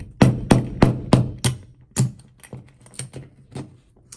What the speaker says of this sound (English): You might have to kind of tap it in with a hammer or the back of a screwdriver.